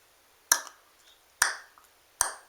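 Three sharp isiXhosa Q click consonants made by the mouth, each a crisp pop released from tongue suction on the palate, spaced about a second apart and standing alone in quiet.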